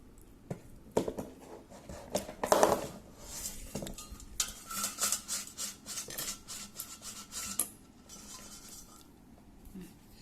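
French fries from an air fryer being moved into a pan with metal utensils, giving repeated scraping, clinking and rubbing sounds in irregular bursts, close by and moderately loud.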